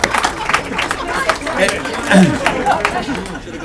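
An audience at a speech on working with the private sector claps in a room, scattered hand claps mixed with loud chatter and voices, fairly close and continuous.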